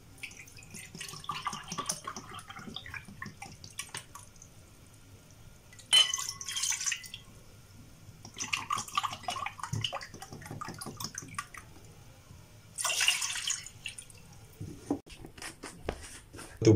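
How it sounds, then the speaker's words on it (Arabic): Two cups of water are poured for sugar syrup for basbousa, a trickling, splashing flow in bursts with louder surges midway and later, close by, no talk. "هناخد كوبايتين ميه"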